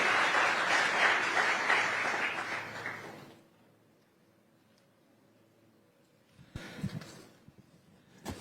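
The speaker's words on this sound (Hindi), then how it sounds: "जोरदार तालियों के साथ अभिनंदन करिए श्री" Loud audience applause welcoming Union cabinet minister Nitin Gadkari at an interview event, a dense burst of clapping lasting about three seconds before cutting off, followed by quiet and a few faint scattered sounds.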